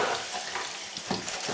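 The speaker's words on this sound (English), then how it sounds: "And then you pour them out" Freshly fried chips are tipped out of a chip-shop fryer basket into a tray, giving a steady, loud hissing rush with a couple of rattling bumps and no talking.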